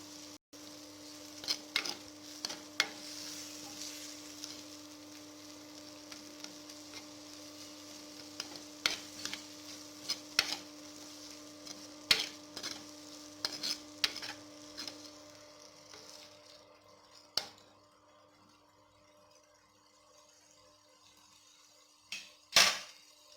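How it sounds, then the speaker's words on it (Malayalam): Coconut pieces being stirred into masala in a pan for a jackfruit seed roast, a quiet frying crackle broken by repeated sharp taps and scrapes of the spoon against the pan, irregular, close and unaccompanied by speech. "തേങ്ങാക്കൊത്തൊന്ന് ഇതിലിട്ട് നന്നായി മസാലയിലിട്ട് ഇളക്കുക"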